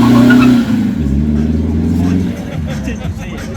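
A three-cylinder car engine revs hard and accelerates away nearby, a loud throaty note shifting in pitch as it pulls off, with people talking over it.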